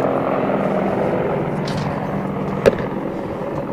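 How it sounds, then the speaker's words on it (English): An AH-64D Longbow Apache attack helicopter drones steadily with a low rotor rumble, fairly close, and a sharp click punctuates it near the end. "the AH-64D Longbow Apache helicopter"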